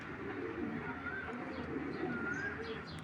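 Male racing pigeon cooing steadily near a paired female in a home loft, soft repeated low coos with faint bird chirps behind, no talk.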